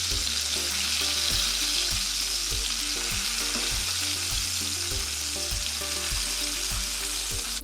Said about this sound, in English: now that we've got our bacon going, while that's cooking